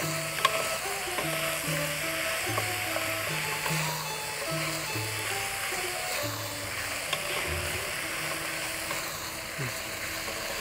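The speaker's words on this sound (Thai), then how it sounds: "แล้วเราก็จะผัดอย่างนี้ไปจนกระทั่ง หมูเหลืองและกรอบดีนะคะ" Minced pork stir-fried in a pan gives a steady close sizzle and crackle, with light scraping from stirring and occasional clinks, under a faint background hum and no talk.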